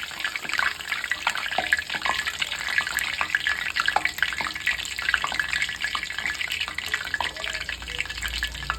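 Dried chillies, curry leaves and drumstick leaves crackle and sizzle in hot ration cooking oil, a dense, close spattering fry full of sharp pops that continues steadily throughout with no talking.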